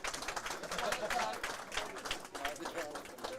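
A bowling crowd cheering and clapping at a singles final, a busy wash of applause and shouts, moderately close, with commentators talking over it.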